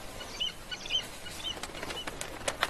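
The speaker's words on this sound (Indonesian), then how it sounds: "terdengar suara burung yang terbang menandakan sesuatu" Several birds take off with a flurry of flapping wings in a film scene, a soft, rustling burst of wingbeats heard close and fairly quiet, with faint chirps mixed in and no talking.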